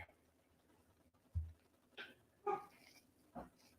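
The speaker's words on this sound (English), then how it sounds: "My dog is barking for some weird ass reason." A dog barks downstairs in a house, three or four short muffled woofs spaced irregularly and heard faintly from another floor, with no talking over them.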